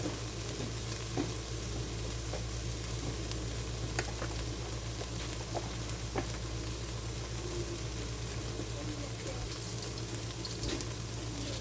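Soup ingredients for a chile relleno soup cook down in a pot, sending up a constant dense sizzle and bubbling that stays loud and even throughout, with faint stirring clicks.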